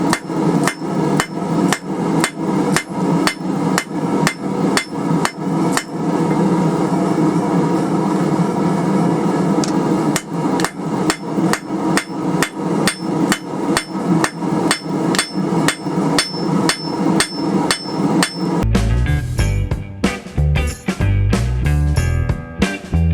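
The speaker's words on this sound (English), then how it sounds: "now we're just going to start forging down our chisel end here." A hammer pounds hot steel on an anvil while forging down a chisel end, with loud, rapid, evenly spaced ringing blows that keep going without pause. The strikes turn duller and more irregular near the end.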